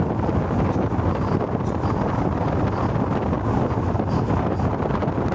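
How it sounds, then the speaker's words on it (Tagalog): Steady roar of strong wind and rough sea waves aboard a Lite Ferry 3 passenger ferry sailing from Cagayan to Cebu, a continuous, fairly loud wash with no voices. "Grabe yung Alon."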